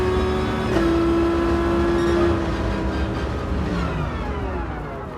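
Race car engine in a driving game on the Yamagiwa II track, a loud sustained drone with a steady high whine and shifting tone as the car pushes through a corner, heard alone.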